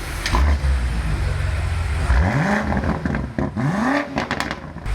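A stock twin-turbo V8 BMW F90 M5 engine revs hard twice, each burst sweeping up in pitch, with a deep rumbling idle and crackle in between, loud and close.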